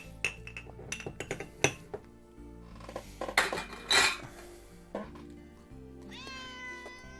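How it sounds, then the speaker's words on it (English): A cat meows several times in the visual novel ToHeart amid clinking dishes, cutlery and glassware, with sharp clattering hits and a rising, wavering meow near the end, all fairly close. "Hear a cat."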